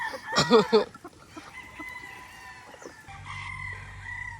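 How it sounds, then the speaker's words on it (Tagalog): On a farm a rooster gives a loud, close crow early on, followed by softer, sustained fowl calls and clucking, with a low hum entering toward the end. "Pag nanggit na, sabay tilaok."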